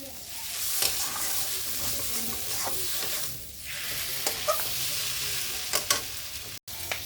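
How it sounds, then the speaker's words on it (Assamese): Taro pieces fry in a hot pan with a dense, close sizzle. Repeated scraping and stirring sounds break through the steady crackle. "কচুখিনি 1 পৰা 2 মিনিট টাইম ভালকৈ ফ্ৰাই কৰি ল'লোঁ।"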